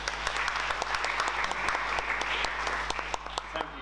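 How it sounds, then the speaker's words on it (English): An audience at a community meeting in Kew claps for a speaker, a short burst of steady applause at moderate distance, fairly soft overall. "can I get a big round of applause for Alex"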